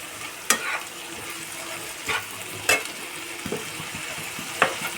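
Poppy seeds frying gently in oil over low heat, a quiet steady sizzle punctuated by about five sharp scraping strokes of a spatula stirring the pan.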